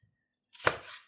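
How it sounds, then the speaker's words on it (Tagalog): A knife chops garlic on a cutting board in a kitchen, making a single crisp, close chop that rings briefly before fading, with no talking. "hihiwa din ako ng bawang"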